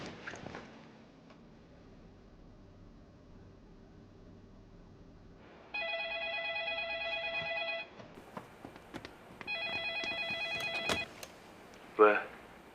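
A telephone call being placed in a Chinese drama series: after a quiet stretch, two rings of about two seconds each sound on the line, separated by a short gap, with a brief voice right at the end.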